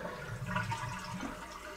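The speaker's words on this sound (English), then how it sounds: "flush it and hold the handle down" A toilet flushes with the handle held down to drain the tank during a fill valve repair, giving a steady, low rushing and gurgling wash of water, fairly quiet and continuous with no speech.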